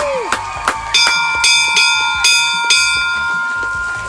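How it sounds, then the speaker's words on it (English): A bell is struck five or six times in an irregular rhythm at a live show, each loud, ringing strike sustaining over a crowd's background murmur. "Hit that bell, Ashley."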